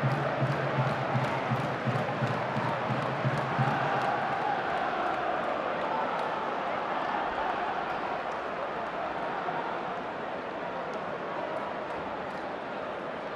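A large football crowd at an MK Dons versus Yeovil Town match roars in a sustained, broad cheer that gradually settles into a steady murmur, with a commentator's voice faintly over it.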